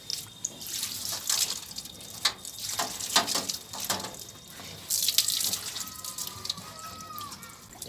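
Water is sprayed and splashed over a split air conditioner unit during a home cleaning. The hissing spray comes in uneven bursts with patters and drips, fairly close and continuous, with no talking.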